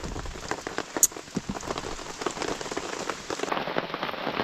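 Rain falls steadily in a forest, a dense close patter of drops on leaves and surfaces with scattered louder splats and one sharp tick, continuing evenly throughout with no voices.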